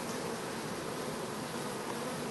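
Honeybees buzzing at a hive fitted with a pollen trap, a dense, steady close-up hum of many bees with no pauses.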